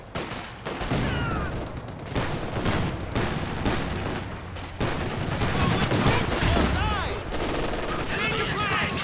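Machine-gun fire rattles in Company of Heroes 2 amid other gunshots and blasts, a continuous loud volley of battle noise with a brief lull before the shooting picks up again.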